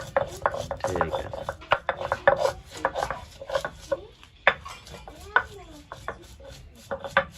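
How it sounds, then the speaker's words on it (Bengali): Cardamom pods are pounded and ground into powder for village-style kulfi, a quick run of close, dry knocking and grinding strikes against a hard surface, uneven in rhythm, with soft voices faintly in the background. "এলাচের ফল এখন গুঁড়ো করব, গুঁড়ো করে এরকম বেটে ওর ভিতরে আমি দেবো এখন"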